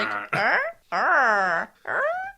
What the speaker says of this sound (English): it's these cute puppy dog noises that Gilmon's making